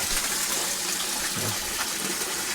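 Water gushes strongly from a tap fed by a DIY home water pump, a steady loud hissing rush of flow running without pause, close and alone with no voices.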